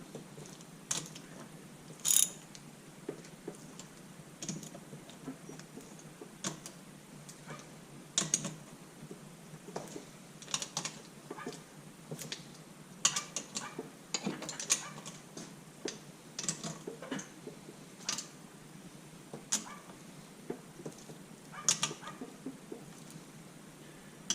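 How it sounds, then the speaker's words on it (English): Bolts on a Honda CB125E motorcycle engine under rebuild being tightened with a ratchet, bursts of quick clicking pawl ticks in irregular runs, close and fairly quiet with no speech. "I'm not tightening every one, I'm tightening every second one and then coming back for it."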